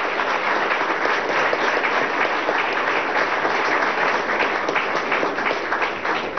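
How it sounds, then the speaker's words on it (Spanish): Dense, steady applause from a crowd, loud and continuous throughout with no pauses. "también desde aquí le damos nuestro amor y el aplauso"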